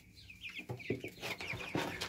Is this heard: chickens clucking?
yes